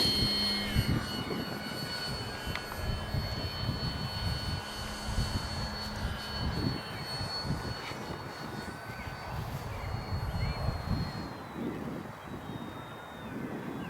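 An FMS Kingfisher RC model airplane flies on a windy morning, its steady electric motor whine drifting at a distance with faint gusty wind noise throughout.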